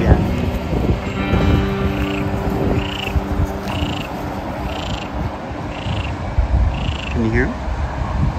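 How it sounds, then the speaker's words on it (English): Frogs at a pond in Portugal croak repeatedly in a steady, evenly spaced rhythm, mid-distance, over light wind noise and outdoor ambience. "With the frogs singing."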